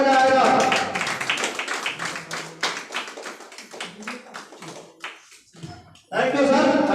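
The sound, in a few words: people clapping at meeting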